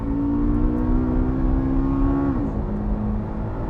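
A Corvette on a race track, with its engine note droning steadily and rising through the revs, then stepping down as a gear changes. The sound is loud and close, heard alone.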